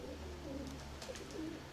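Pigeons coo softly and low at a distance outdoors, a couple of faint repeated calls over a steady background hum.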